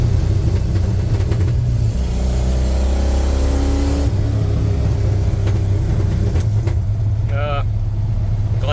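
A 1986 Ford F150 with a 351W V8, NP435 manual, glass pack exhaust, long tube headers and X-pipe rumbles loudly while driving, the deep exhaust drone steady and rising briefly through a downshift.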